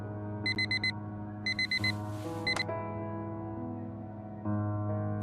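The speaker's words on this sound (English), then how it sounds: "Harry never wakes up from my alarm" An alarm clock sounds in short bursts of repeated beeps, three clusters at close range over a steady hum, with a brief rattle and a tonal chime between them.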